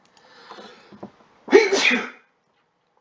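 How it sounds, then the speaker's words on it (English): A single loud, close sneeze bursts out after a moment of soft, indistinct vocal sounds, then silence. "Oop, I'm going to sneeze."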